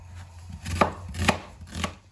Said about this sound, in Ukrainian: Візьмемо цибулю і дрібненько поріжемо її